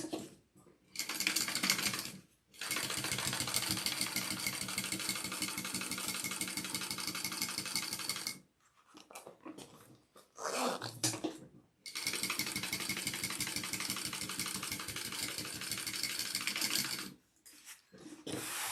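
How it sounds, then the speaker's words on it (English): Sewing machine stitching a seam at full seam allowance while making a bag with zipper tabs, running in long steady bursts of mechanical whirring, with brief pauses between passes and no talking. "And then we'll sew that on at our full seam allowance."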